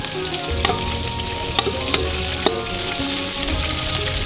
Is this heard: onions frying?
yes